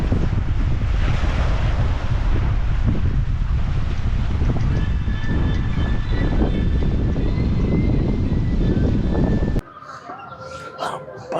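Strong seaside wind at Thangachimadam roars steadily across the microphone with waves in the background, loud and continuous, then drops abruptly near the end, leaving faint ambient sound.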